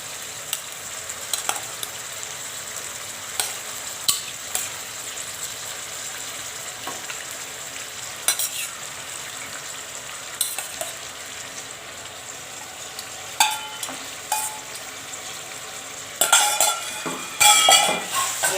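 Mutton frying in a pan with garlic, ginger and white cumin, a steady sizzle broken by scraping stirs and spoon clinks against the pot, louder bursts of stirring near the end, no talk.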